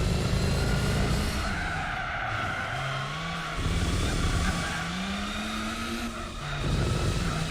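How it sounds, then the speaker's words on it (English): A Renault Megane race car in Gran Turismo 4 drones with a steady engine note that rises and falls through gear changes, with tire squeal mixed in and no talking. "The engine sound from this is terrible."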